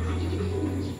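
Racing pigeons in a loft give a low, steady cooing hum, close and continuous for about a second.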